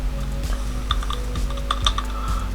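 Keys clatter on a computer keyboard in quick, uneven bursts, close and moderately loud over a low steady hum, with no talking.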